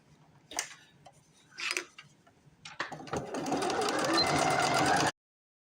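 A sewing machine stitches denim and patchwork fabric for a bunny doll, starting with short bursts that give way to a steady, fast, close mechanical run that stops abruptly.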